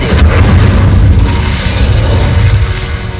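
An Incendio fire spell explodes in the Hogwarts Legacy video game, a loud, deep boom with a sustained roaring rumble that carries on for a few seconds.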